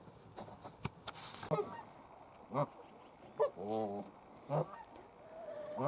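An ornery goose honks several times in short, nasal bursts, one after another with brief pauses between, against a quiet outdoor background near a chicken pen.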